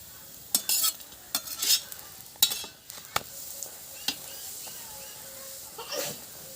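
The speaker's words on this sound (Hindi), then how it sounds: "तेल रखने के बाद हम इसे एक साइड बहुत अच्छे से सेक लिए क्रंची जैसे" Lentil paratha frying in oil on a tawa, with a soft sizzle and scattered clinks and scrapes of a spatula coming in short bursts, fairly faint and close, with no talking.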